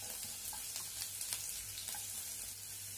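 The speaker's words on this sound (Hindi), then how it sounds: "अब हम इसमें डाल देंगे ये कटा हुआ लहसुन, 7-8 कलियां लहसुन की भी," Chopped garlic cloves drop into hot oil with sizzling cumin seeds while jeera aloo is being cooked, producing a faint, steady hiss with a few small crackles and no voices.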